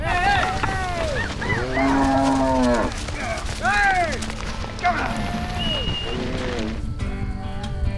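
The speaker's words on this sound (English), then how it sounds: "one of the cows makes a break for it" Cows moo loudly and repeatedly at close range, several long, drawn-out calls overlapping one another in an outdoor herd setting.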